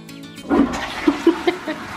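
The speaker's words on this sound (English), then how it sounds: "we're gonna flush it down the toilet" A toilet flushes with a rushing burst of water, then gurgles and splashes a few times as the bowl drains, close by and heard alone.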